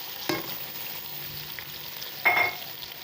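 Onion drops into a pan with sizzling garlic ginger paste, giving a faint, steady fry with two brief louder hisses as the pieces hit the hot oil.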